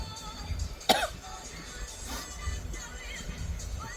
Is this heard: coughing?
yes